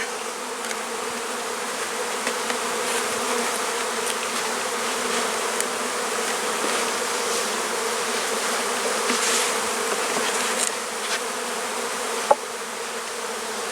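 Honeybees buzz in a dense, steady drone around a hive box and its landing board, many insects close to the microphone, with no talking.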